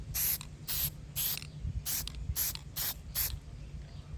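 Aerosol spray paint can hissing in a series of short sharp bursts, about seven in quick succession, close by while coating truck badges, with faint ratcheting clicks between.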